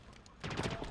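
A short burst of rapid gunfire erupts halfway through in Halo Infinite's Fiesta mode on the Fracture Tenrai map, dense overlapping shots after a brief quieter lead-in.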